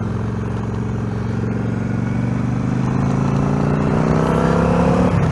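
A 2003 Yamaha XVS1100 V-Star cruiser with drag bars on a test ride, its V-twin engine droning loud and steady, pitch rising gradually as the bike accelerates, with wind noise over the engine.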